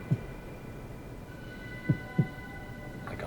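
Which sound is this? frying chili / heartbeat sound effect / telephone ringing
heartbeat sound effect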